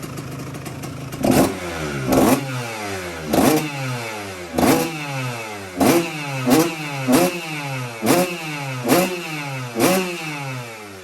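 A rebuilt Kawasaki KX125 two-stroke dirt bike engine, assembled from a box of parts, runs up close and loud, its throttle blipped in sharp revving bursts about once a second between a raspy idle.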